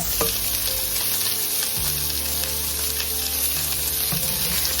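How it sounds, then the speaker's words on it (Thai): Shrimp and salmon sizzle steadily in a pan while pan grilling, a close, continuous frying hiss with a few soft utensil knocks and no talking. "I'm doing pan grilled shrimp and salmon"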